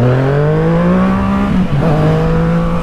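A Yamaha MT-09 motorcycle engine revs on the throttle alone, its loud, close whine climbing in pitch, dipping briefly midway, then rising again, with no talking.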